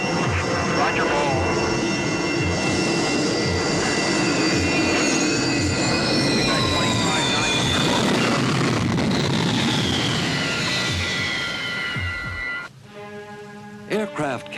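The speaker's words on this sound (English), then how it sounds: "From the air, however, the deck still seems small to jet pilots roaring in for a landing." A jet aircraft roars in loud and continuous for a landing on an aircraft carrier deck, the engine whine sweeping in pitch before cutting off sharply near the end, with radio-style talk over it.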